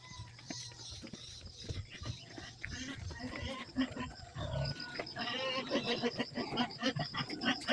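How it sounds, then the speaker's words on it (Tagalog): Hungry farm pigs grunt and squeal at feeding time amid running water and general pen clatter, getting louder and busier toward the end, with some voices in the background. "magpakain tayo ng baboy"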